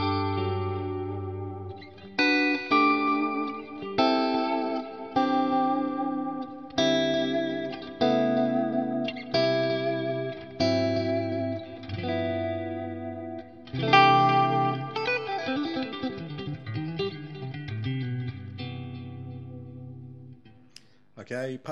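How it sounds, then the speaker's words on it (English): Clean electric guitar picking chords and single notes, each note trailing into soft repeating echoes, steady and upfront with no voices. "Patch number one is basically my clean tone with a bit of a tape delay on there."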